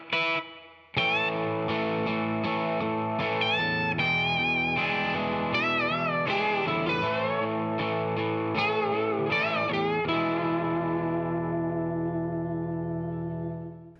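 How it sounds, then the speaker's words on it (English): A distorted electric guitar plays the solo from a song, full of bent, wavering notes, loud and continuous, with sustained tones trailing off at the end. "we hit the guitar solo, and that sounds like this"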